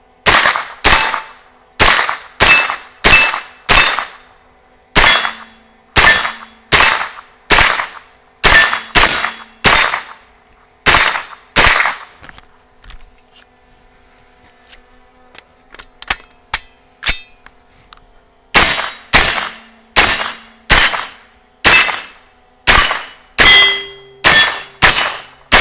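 AR9 straight blowback 9mm carbine fired in quick strings at steel targets outdoors, sharp loud cracks each followed by a ringing metallic clang, with a pause for a few scattered shots mid-way before the rapid strings resume.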